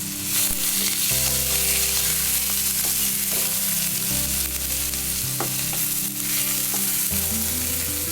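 Thinly sliced onions sizzle in hot oil with cloves and fennel seeds, an early step for mutton kola urundai. The frying crackle is steady and close, broken by occasional stirring clinks.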